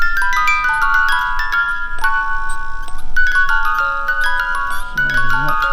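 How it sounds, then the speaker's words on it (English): A motion-triggered alarm in a wooded setting plays an electronic musical tune, a string of clear beeping notes that carries on steadily, fairly loud and close. "it's got a motion sensor on it, so it will trigger and it will play a musical tune"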